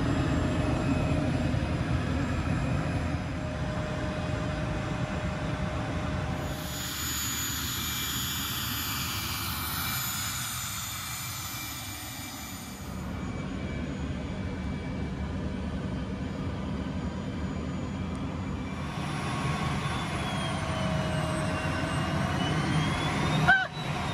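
A jet aircraft engine, a Vision Jet in flight, drones with a steady, loud cabin roar and high whine that shift in tone midway, continuous throughout with no talking.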